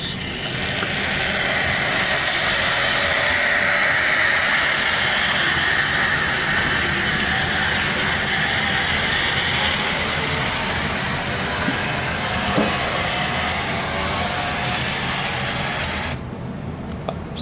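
A model train runs on a layout, giving a steady whirring, hissing rumble of motor and wheels on track. It stays continuous and close, then drops off abruptly near the end.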